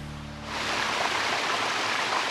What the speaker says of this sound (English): these waterfalls are incredible